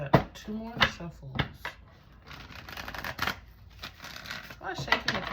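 Playing cards being shuffled hard, repeated riffling bursts with sharp flutter and snaps across the whole stretch, fairly close, with a voice talking over parts of it.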